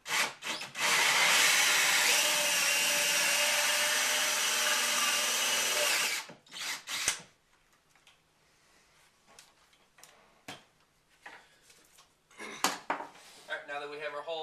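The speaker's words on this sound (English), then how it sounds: "Take the drill" A power drill with a hole saw bores a door knob hole through a wooden door, a loud continuous grinding whir for about six seconds, then stopping into knocks, clicks and handling noises.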